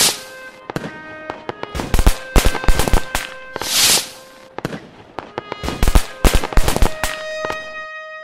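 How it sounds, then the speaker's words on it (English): A Fourth of July fireworks show: sharp cracking bursts and booming pops in rapid irregular clusters, some with trailing crackle and a whooshing launch, loud and continuous with brief pauses between volleys. "Where we sit and watch the fireworks show."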